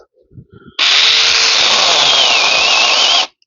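A cordless mini chainsaw from AliExpress buzzes loudly and close as it bites into a log, a sustained high whine lasting about two and a half seconds after a few soft knocks, then cutting off abruptly.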